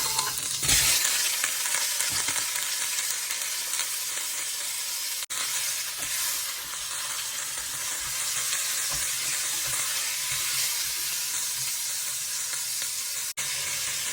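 Oxtail sautéing in a pot with onion and ginger for tripe soup, a loud, dense, steady sizzle and hiss lasting throughout with occasional stirring sounds.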